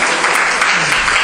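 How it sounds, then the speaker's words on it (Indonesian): Dense applause from a church congregation fills the whole short moment, steady and close, with a murmur of voices blended in. "Tepuk tangan buat gembala saudara."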